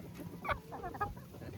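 A hen on a farm gives a few soft, close clucks over low background noise, with no talking.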